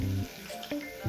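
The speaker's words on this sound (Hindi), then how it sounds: "तेल गरम होने के बाद पहले हम लोग खड़ा मसाला डालेंगे" Whole spices such as cloves, cardamom and cinnamon hit hot oil for mutton korma, giving a short close sizzle and crackle with a stirring scrape and no talk.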